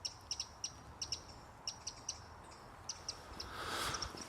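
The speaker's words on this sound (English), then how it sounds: "That sounds like a parakeet." Outdoors in Backhouse Park, Sunderland, a parakeet gives short, sharp, high chirps in irregular pairs and bursts, distant and faint over a soft ambient hiss.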